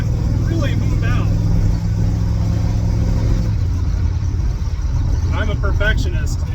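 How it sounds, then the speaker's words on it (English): A Ford 351 Windsor V8 in a classic catering truck idles in drive at about 600 RPM, giving a smooth, even, low hum close by. Someone talks over it near the start and again toward the end. "We're idling in drive, a good 600 RPM idle here"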